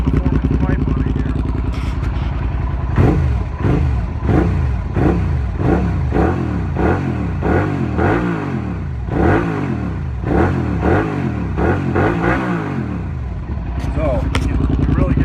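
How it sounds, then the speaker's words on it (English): A 2008 Suzuki SV650S motorcycle fitted with a performance exhaust pipe idles loudly close by and is revved repeatedly in rising and falling blips, while a person talks over the engine. "I'm gonna give you a little gas so you can hear it, because it does have a performance pipe on it here"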